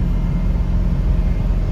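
A white dually pickup truck's engine is pushed hard under heavy throttle while hauling an F350, a loud, steady low rumble droning without a break.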